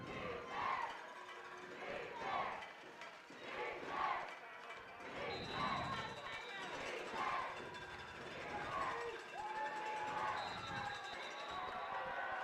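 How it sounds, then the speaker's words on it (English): A football crowd at a Texhoma-Goodwell at Talihina game swells in repeated waves of cheering and shouting, steady and moderately distant, with an announcer's voice heard over the noise. "The crowd is really getting into it now."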